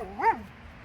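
A single short dog bark or yip from a pet dog indoors, rising and falling in pitch, fairly close and moderately loud, with no talk over it.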